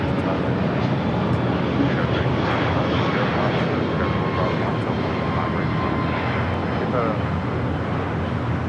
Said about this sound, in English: The American 777 flight heading to Dallas, Fort Worth, Texas now taking off.